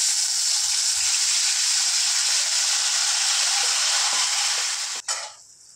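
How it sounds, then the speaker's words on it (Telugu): Half a kilo of tomatoes dropped into hot oil in a pan, a loud steady hissing sizzle held close for several seconds that cuts off abruptly and leaves a softer fading hiss, with no talking. "ఆయిల్లో ½ కేజీ టమాటా వేసుకుందాం"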